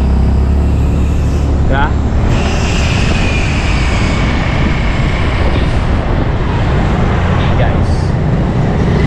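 A Yamaha Gravis scooter rides on a road in hot weather, giving a loud, steady engine-and-wind roar throughout with a few faint tonal sweeps, while someone speaks briefly over it.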